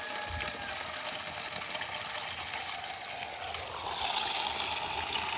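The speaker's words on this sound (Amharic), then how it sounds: "ውሃው ሞላ።" Water runs steadily into a container outdoors, a continuous hiss of flow that swells slightly louder near the end as it fills, with no talking.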